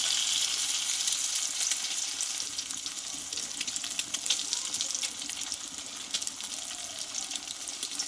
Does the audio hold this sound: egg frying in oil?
yes